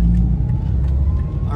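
A car drives uphill on a road up a volcano on Maui, its engine rumbling low and steady close by, with people talking over it.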